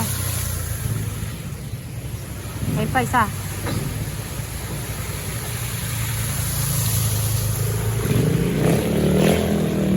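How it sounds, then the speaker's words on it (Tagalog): Motorcycles ride past on a flooded street during a typhoon, engines droning at a moderate distance with a brief nearer pass, under steady background noise while a person talks. "yung motor na yan, dumadaan na dito."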